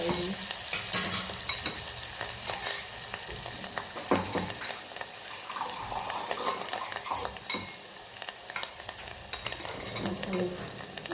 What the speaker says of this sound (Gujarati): મસાલો કરી હલાવી દઈએ